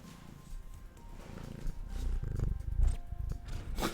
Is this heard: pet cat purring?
yes